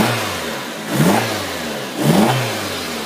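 Two quick throttle blips from a 2003 Suzuki Aero's 2.0 liter four-cylinder rise sharply and fall back to a steady idle, heard close up with a second between revs.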